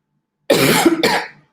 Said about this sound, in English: I'm recovering from COVID, that's why I have a cough